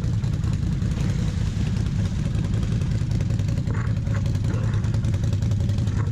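Kawasaki KFX 700 quad stuck in mud at a quad meet in an Emsland excavator park, its engine holding a steady, loud low rumble close by as it backs up, with no talk over it.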